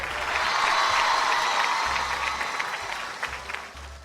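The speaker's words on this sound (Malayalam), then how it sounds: "ഒന്ന് ഉറക്കെ കൈയടിച്ചേ" Schoolchildren clapping loudly together in a room, a dense, sustained burst of applause that fades slightly toward the end.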